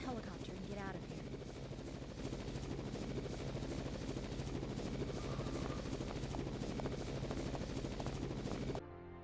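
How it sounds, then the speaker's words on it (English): A helicopter in the video game Raw Danger thunders steadily with fast rotor chop and a dense engine drone, loud and continuous until it cuts out near the end, with faint voice sounds beneath. "let's get to the helicopter and get out of here."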